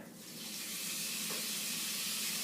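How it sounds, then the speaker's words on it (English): Steady, loud sizzling hiss of steak frying in a hot pan, building slightly and continuing without pause, with no talking. "Ooh, just listen to that sizzle."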